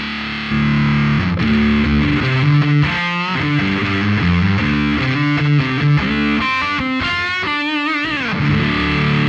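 Electric guitar played through a hot-rodded Fuzzsimp FX Muzzsimp fuzz pedal with modded clipping diodes, loud, gnarly and mid-heavy, a riff of sustained distorted notes and bends running continuously without talk.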